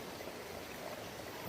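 Steady stream water rushing and flowing, a continuous broadband wash with no breaks, close and fairly even in level, with no voices.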